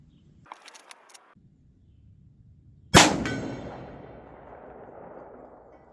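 A Taurus Tracker 4-inch ported .44 Magnum revolver fires one loud, sharp shot outdoors, followed by a long rolling echo, after a few faint clicks and handling sounds.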